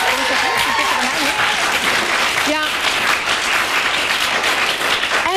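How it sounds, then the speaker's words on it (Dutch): A television game-show studio audience applauds loudly and steadily, a dense even wash of clapping that carries through the whole stretch, with a host's voice briefly rising over it. "En een fantastisch applaus van iedereen hier in de studio."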